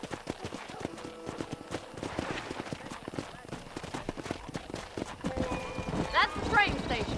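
Horse hooves clip-clopping at a brisk pace in the video game Red Dead Redemption, irregular close hoofbeats under voices, with a whinny near the end.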